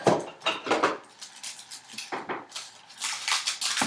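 Small scissors snipping the tips off nail glue bottles, a quick series of sharp metallic clicks and cuts, close and fairly loud, with short gaps between bursts.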